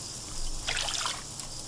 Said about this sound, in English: Wow, look how much that's filling with water.